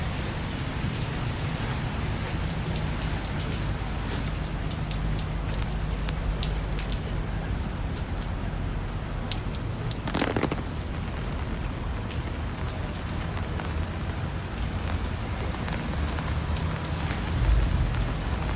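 Steady rain falling on a Toronto street, a dense, even hiss of drops on surfaces throughout, with a faint passing whoosh midway and no voices.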